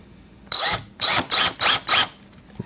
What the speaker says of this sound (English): now bracing it with my other hand, we're just going to carefully drill into it